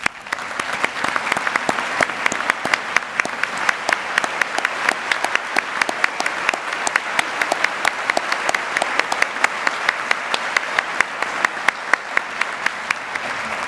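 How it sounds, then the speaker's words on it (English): A large crowd at a high school awards night gives sustained, dense applause, loud and steady throughout, with many hands clapping together and no voices standing out. "please stand at this time so we can give you a well-deserved round of applause"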